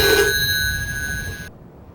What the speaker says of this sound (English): Siri, answer the phone.